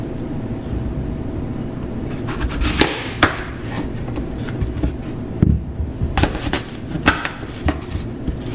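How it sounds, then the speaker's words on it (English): A kitchen knife slices a halved white onion into strips on a cutting board, giving scattered sharp cutting taps that come irregularly over a low background hum. "I'm going to cut it in half, and then I'm going to slice it into strips."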